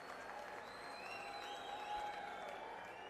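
Crowd applause at a political rally welcoming Arvind Kejriwal, a steady, dense wash of clapping that holds evenly for a few seconds with faint tonal sounds above it.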